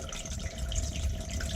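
Water trickles steadily back out of a sump pump discharge tube in a French drain setup, a soft continuous splashing and dripping close by with no voices.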